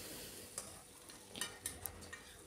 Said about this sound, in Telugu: వీటిని మంచిగా ఫ్రై చేసుకోవాలండి